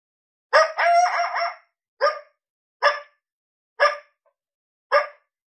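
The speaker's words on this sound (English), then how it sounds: "This one's more of a standard coyote that you'd hear. Just some howls and some barks. And this is a male as well." A male coyote game call sample opens with a long wavering howl, then four short, sharp barks at even intervals, loud and close against silence.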